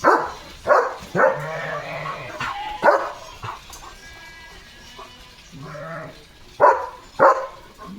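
Several sheep bleat in short bursts nearby as a flock moves past, with dog-like barks and shuffling in between.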